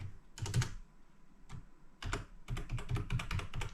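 Someone types a password on a computer keyboard set to a French-Belgian layout, with close, quiet clusters of quick key clicks separated by brief pauses and no voices.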